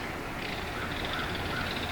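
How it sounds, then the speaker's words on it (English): A belted kingfisher calls near Blue Marsh Dam along the Union Canal, a harsh rattling cry heard at a distance over steady outdoor background noise. "It's called the belted kingfisher."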